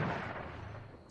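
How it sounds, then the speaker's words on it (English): Cannon fire in the pirate video game Sea of Thieves: a single heavy, booming blast that rumbles and decays over about a second, with no voices. "they're probably trying to use the cannons"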